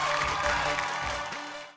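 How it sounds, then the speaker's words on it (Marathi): Studio audience on a Marathi TV game show breaking into sustained applause and clapping, a dense steady patter of many hands that fades slightly toward the end. "एकदा जोरदार टाळ्या होऊन जाऊ दे."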